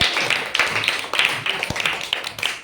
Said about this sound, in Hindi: शाबाश, ताली बजाओ।